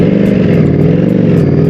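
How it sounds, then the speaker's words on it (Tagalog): A Streetfighter motorcycle with clip-on handlebars cruises at an easy pace, its engine rumbling steadily and loudly under constant wind rush. "I-stroll lang natin tong motor natin, tong clip-ons natin."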